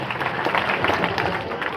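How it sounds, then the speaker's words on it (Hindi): Crowd applause welcoming a guest at an award ceremony, a dense, loud burst of many hands clapping together, sustained evenly across the short moment. "जोरदार तालियों से स्वागत करेंगे मनीष जी के"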